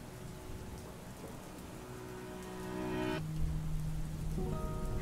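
Rain heard through a phone call makes a steady, muffled hiss that swells slightly partway through. Faint tonal hums sit underneath, and no one speaks.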